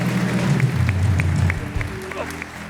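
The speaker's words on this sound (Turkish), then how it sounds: "Büyük bir alkış bütün konuklarımıza." A TV studio audience on the Turkish talk show Beyaz Show applauds the guests: steady, fairly loud clapping over a low humming bed for about a second and a half, then thinning out as a voice carries on.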